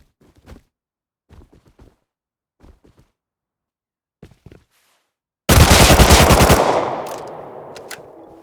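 Rocket raid in the video game Rust, Console Edition: a few faint distant pops at first, then a loud sudden burst of rapid gunfire and a blast that decays slowly with a long rumbling tail.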